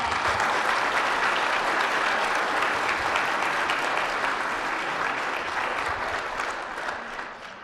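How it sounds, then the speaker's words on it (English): Audience applause at a 1 Million Cups startup pitch event in Kansas City: a sustained, full burst of clapping from a crowd that holds steady, then gradually thins toward the end. "Let's give Sarah a big round of applause."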